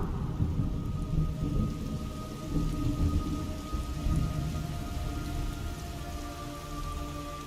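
Steady heavy rain pours throughout in Metal Gear Solid Delta: Snake Eater, with deep rolling thunder rumbling beneath it; continuous and fairly loud, no voices.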